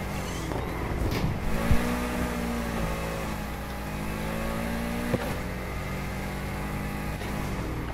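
A car engine revving and accelerating in the racing game Need for Speed Heat, with rising gear-shift sweeps and steady engine drone throughout, loud and close.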